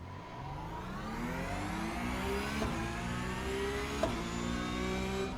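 An iRacing race car accelerates hard from a standing start, its engine revving up through several gear changes with a steady, loud rising whine and brief shift breaks.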